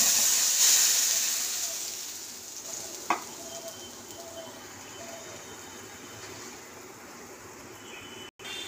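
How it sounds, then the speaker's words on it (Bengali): Dry red chillies and nigella seeds frying in hot oil in a pan, a continuous hiss and sizzle, louder at first and then settling, with a single scrape of stirring partway through. "এই যে আমার কালো জিরে আর শুকনো লঙ্কা ভাজা ভাজা হয়ে গেছে"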